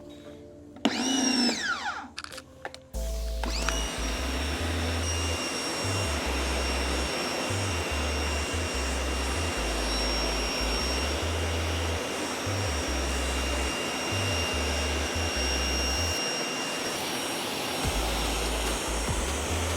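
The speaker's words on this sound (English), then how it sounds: "today we're testing the Ryobi 1800 PSI Electric Pressure Washer" A Ryobi 1800 PSI electric pressure washer sprays down a Tesla Model Y, its steady motor whine and hissing water jet running continuously and loudly after a brief startup, with a few pulsing pressure shifts.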